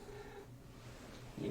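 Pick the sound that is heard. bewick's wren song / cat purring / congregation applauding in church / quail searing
cat purring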